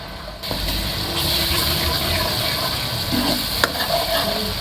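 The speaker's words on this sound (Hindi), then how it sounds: "टमाटर जो हमने डाले हुए थे वो भून गए" Tomatoes and spices frying in a pan for achar gosht, a steady close sizzle with a faint scrape of stirring partway through and no talking.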